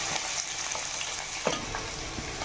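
Onion pieces and green chillies fry in hot oil for a Telugu-style bobbari chikkudu, brinjal and tomato curry, a steady close sizzle with a few light stirring knocks and no talking.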